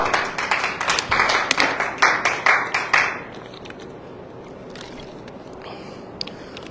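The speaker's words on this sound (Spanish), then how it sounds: "Aplaudo al Rey, gloria a Jesús." Church congregation clapping in a steady rhythmic beat for about three seconds, loud and close, then stopping into quiet room murmur.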